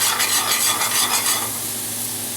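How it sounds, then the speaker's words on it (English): Pan juices left from Italian-style chicken breast sizzling as white wine is added to deglaze, a bright hissing crackle with stirring scrapes, loud at first and then settling to a softer simmer. "Deglazing the pan juices, a little bit of white wine."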